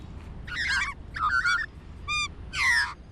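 Seabirds on a coastal headland give four loud, nasal honking calls in close succession, separated by short gaps, near and clear over faint background hiss.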